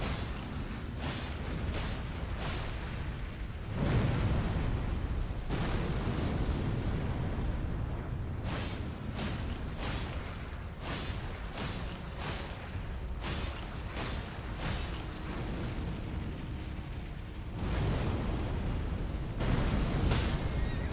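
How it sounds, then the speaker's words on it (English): Explosions in Elden Ring: Shadow of the Erdtree, a series of heavy booming bursts and blasts recurring irregularly over continuous rumbling combat noise, loud and close. "I guess I jumped into the explosion, maybe"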